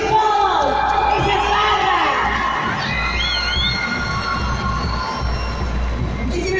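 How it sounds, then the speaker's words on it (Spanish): A large audience at a Bolivian dance show cheers, whoops and shouts loudly, with a dense, continuous crowd roar that holds steady throughout. "Fuerte aplauso, que se escuchen todos"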